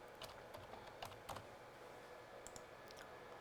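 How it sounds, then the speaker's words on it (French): Typing on a computer keyboard while entering database field names, a quiet, steady patter of key clicks with a few sharper taps over low room hum, no voices. "on tape les noms de champs"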